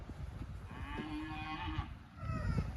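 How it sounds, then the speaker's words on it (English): Cattle mooing in a paddock on a smallholding, with several drawn-out, tonal moos spread across the clip at moderate distance, heard alone without talk over a low outdoor background. "The cows are starting on the daily wander around"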